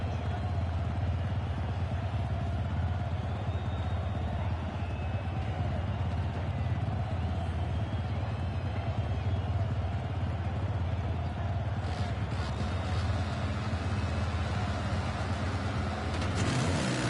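Motocross bikes revving at the start line in the MX Legends racing game, a dense steady engine drone with a brighter burst of revs near the end, continuous and fairly loud.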